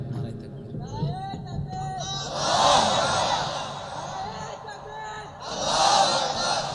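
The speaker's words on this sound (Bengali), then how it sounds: "এটা জোরে তাকবীর দাও, নারায়ে তাকবীর" A large crowd at an outdoor Bangladeshi Islamic sermon gathering roars a loud shout of takbir in two surging waves, the first following a voice calling out to them.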